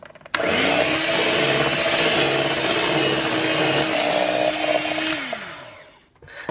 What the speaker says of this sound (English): we'll just whisk it until it's smooth, creamy and thickened